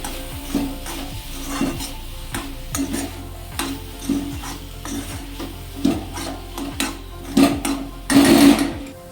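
Beetroot laddu mixture with cashews, almonds and cardamom powder being stirred in a pan, a steady rhythmic scraping of spoon against the pan, repeated strokes about once a second, close and fairly loud.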